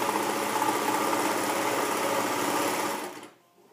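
Serger stitching a knit neckband, a fast close rattling motor hum running steadily for about three seconds before stopping abruptly.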